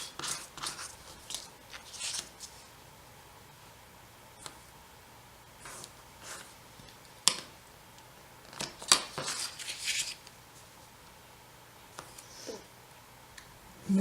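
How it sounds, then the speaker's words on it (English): Tape is pulled and pressed around the outer edge of a brown paper book cover, giving scattered close crackles, tearing rips and soft clicks separated by quiet pauses, with no talking. "I'm just going to run some tape around the outer edge."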